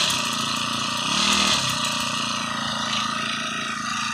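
Four-stroke grass trimmer engine idling calmly, a steady low putter with a brief slight rise in pitch midway, heard close and alone without voices.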